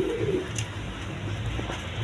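Pigeons for sale coo softly at a market stall amid a steady background hum, giving one low, brief coo that sits faint under the ambient noise.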